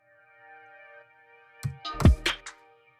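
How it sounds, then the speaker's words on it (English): A soft romantic pad synth in Logic Pro X holds a quiet, sustained chord, with a few short knocks and clicks passing over it midway. "I'm introducing this new romantic pad, which sounds like this."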